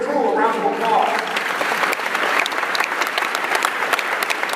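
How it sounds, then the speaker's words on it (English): Audience applause fills a conference hall at the PoCC 2015 gathering, a steady dense clapping that runs the whole stretch, with a voice briefly talking over it at the start. "give Carol, the rest of the crew a round of applause."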